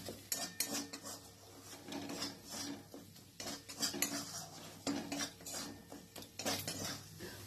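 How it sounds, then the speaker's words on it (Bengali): A spoon scrapes and clinks against a pan as spice masala is stirred until the oil separates, irregular metallic knocks and scrapes in a quick uneven rhythm over a faint low sizzle, fairly quiet and close. "এরপর ততক্ষণ পর্যন্ত মিশিয়ে যাব যতক্ষণ না মশলার থেকে তেল ছেড়ে বেরিয়ে না আসছে।"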